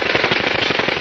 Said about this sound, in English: The gunfire from the Uzi just lit up the place.